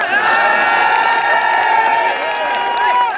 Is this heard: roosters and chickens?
no